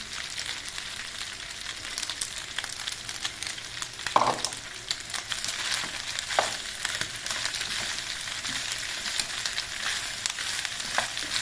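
Liver with onions frying in a pan for a Turkish ciğer kavurma, a dense steady sizzle with bursts of spitting and crackling and a few stirring clinks, no one talking.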